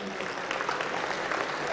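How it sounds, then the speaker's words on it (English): Brief applause from an audience at an evening birthday prize-draw event, steady clapping heard throughout at moderate level, blending with the room's background. "Another round of applause for Mr. Ram, please."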